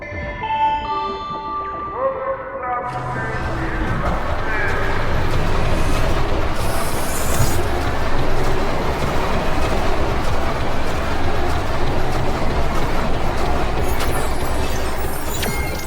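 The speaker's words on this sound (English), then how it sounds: "The poor train with the burden of carrying the burning moon revelers is now finally arriving." A train pulls in within the sci-fi hospital management game Two Point Hospital, a broad rumbling roar that swells after a few quiet seconds of music and stays loud and steady, carrying a faint echoing reverb.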